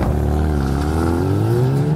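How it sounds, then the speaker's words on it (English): A 2018 Hyundai i30N hot hatch with a race-style exhaust revving up, a loud, close engine note rising in pitch over two seconds with a rough warble. "fire up the engine and you tune into the potent warble of that race-style exhaust"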